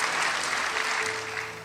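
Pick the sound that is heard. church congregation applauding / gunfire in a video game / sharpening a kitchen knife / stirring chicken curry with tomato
church congregation applauding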